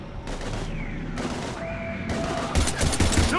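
Mass Effect 3 combat brings rapid bursts of gunfire in three or four separate volleys, loud and close, with whining weapon tones in between. Dense overlapping shots fill the final second.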